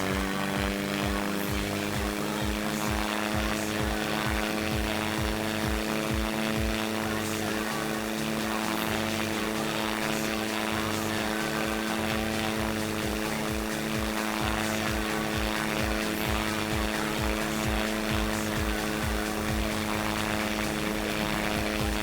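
A jet aircraft engine drones steadily in SimplePlanes as a home-built plane strains for takeoff on a short runway, a loud continuous roar with a rapid throbbing pulse underneath, unbroken throughout.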